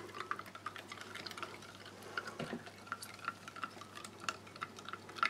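A spoon clinks lightly against a glass in a quick, irregular rhythm as a sports drink is stirred, quiet and close.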